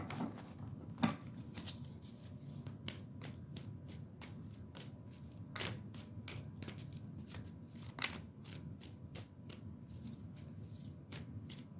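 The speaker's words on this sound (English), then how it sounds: "Let me get a good shuffle here." Cards are riffled and bridged again and again, a rapid run of crisp flicking bursts at a steady rhythm, close and fairly quiet.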